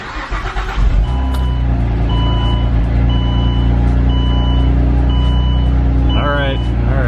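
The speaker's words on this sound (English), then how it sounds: "We're gonna start the car." A Turbo X car showing cornering headlight malfunction and low coolant warnings cranks and starts, settling into a steady close engine hum beneath a series of evenly repeating electronic warning beeps, ending in a brief rising chime.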